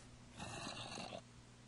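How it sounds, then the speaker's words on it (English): A zombie in the video game Minecraft gives a single rasping, breathy groan lasting under a second, moderately quiet over a low steady hum, with no speech. "I hear a zombie."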